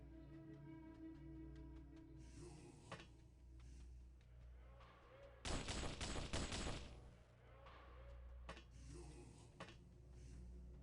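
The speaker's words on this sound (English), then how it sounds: "That's an anti-tank rifle." An anti-tank rifle fires in X-piratez: a loud, sharp burst of rapid cracks lasting about a second stands out from a steady mechanical hum, with a few fainter isolated shots before and after it.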